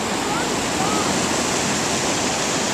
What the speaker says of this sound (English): we have lots of water kind of going all over the place here